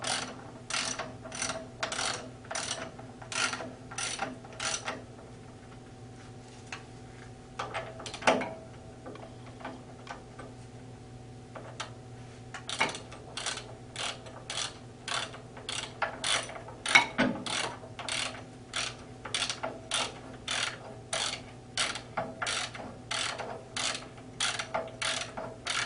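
A hand ratchet tightens clutch bolts during a 14-inch Lipe clutch installation, giving rapid runs of sharp clicking in bursts with short pauses between strokes, close and fairly quiet.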